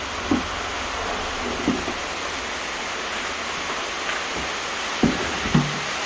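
Water runs steadily onto a flooded floor with a constant rushing hiss, punctuated by several distinct drips or splashes landing at irregular intervals, close by and without talk.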